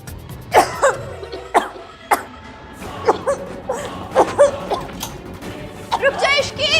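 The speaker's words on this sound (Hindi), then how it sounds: "आपको भी तो आ रही है ना खांसी?" Repeated harsh coughs from smoke come in quick bursts, some close together, with a few voiced throat sounds between them and no clear speech.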